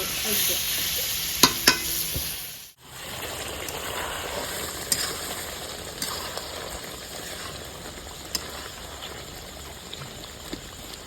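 Chicken pieces poured into a pan, cooked rustic village style by hand, fry with a steady hissing sizzle and repeated clicks and scrapes of stirring, briefly dipping near three seconds before resuming; no voices.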